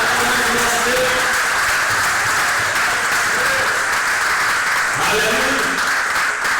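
Church congregation applauding during a sermon, a loud sustained wash of clapping with voices and a preacher speaking over it.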